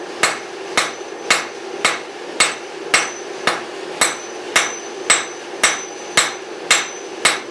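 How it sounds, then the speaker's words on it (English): A hammer strikes hot railroad spike steel on an anvil as a knife blade is forged, about a dozen sharp ringing blows at a steady, even pace, close and clear with no talk. "we're going to go at it with the cross beam of our hammer"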